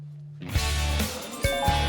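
A deep Buddhist temple bell strike booms and rings out in a long, humming resonance, with a second softer knock partway through, close and full.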